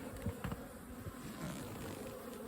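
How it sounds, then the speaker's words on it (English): A dense, steady hum of many honeybees buzzing in a hive, soft and continuous, with a few faint bumps. "there's a lot of bees in this hive"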